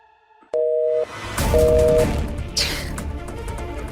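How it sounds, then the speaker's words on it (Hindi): Two short electronic tones beep over a phone line as a call fails to connect, then a burst of clattering noise follows, loud and close. "बड़ी ईशा जी को कब से फोन लगा रहा हूँ, लेकिन उनका फोन नहीं लग रहा।"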